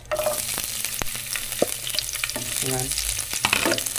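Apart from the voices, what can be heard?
garlic frying in oil in a pan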